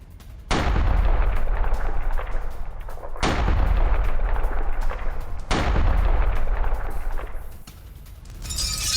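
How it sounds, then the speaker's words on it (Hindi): Russian FAB bombs strike Ukrainian military positions in three heavy blasts, each a sudden deep boom followed by a long rumbling roar that slowly fades, loud and continuous. "फैब बमों से किया गया हमला, फैब का इस्तेमाल किया गया यूक्रेनी ठिकानों को, सैन्य ठिकानों को नष्ट करने के लिए"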